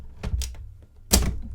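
Keys struck on a Hermes 3000 manual typewriter while typing a full stop: two light taps followed after a short pause by a louder, sharper thunk, close and dry with no talking.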